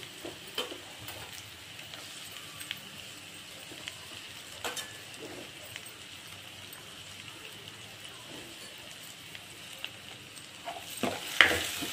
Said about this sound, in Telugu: ఇవి కొంచెం వేగిన తర్వాత ఆనియన్స్ కూడా వేసేస్తున్నాను.